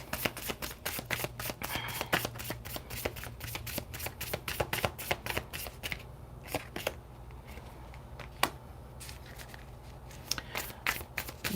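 Oversized tarot cards shuffled over and over in hand, a steady run of close, crisp riffling clicks and slaps, busier in the first half and then thinning to scattered flicks.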